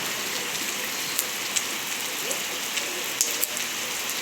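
Heavy rain pours down in Dubai as a dense, steady hiss, with a few sharp drips and taps standing out close by.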